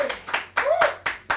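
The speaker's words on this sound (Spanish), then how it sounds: "Un aplauso para ellos, chicos." Rhythmic claps at a Miss Universe pageant presentation land in quick, even bursts about four times a second, close and fairly loud, with a voice speaking over them.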